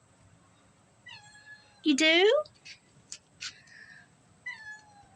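A cat meows close and loud for a treat, with one long rising-falling yowl and a few shorter chirps. A person speaks briefly between the calls.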